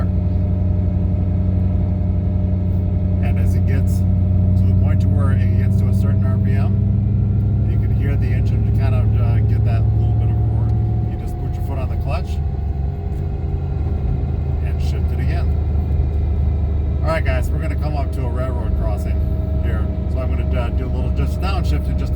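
A manual-transmission car cruises along the road, its engine rumbling steadily from inside the cabin before the note drops partway through, and a person talks over the drive throughout.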